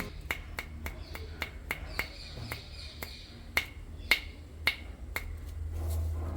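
A mature brown coconut is tapped repeatedly, giving a series of sharp, hollow knocks in an irregular rhythm, about a dozen close-up taps over a quiet room background.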